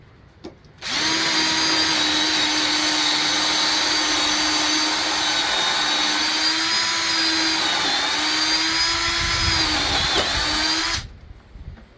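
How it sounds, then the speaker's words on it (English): A power drill with a cobalt bit whines loudly and continuously for about ten seconds as it bores through a wooden 4x4 post, starting abruptly and cutting off at the end. "we're going to drill through this 4x4"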